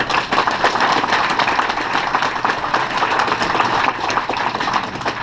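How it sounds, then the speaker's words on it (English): An audience at a summer community event gives a round of applause, a dense steady wash of many hands clapping that holds loud and even throughout, with no talk. "So let's give him a round of applause."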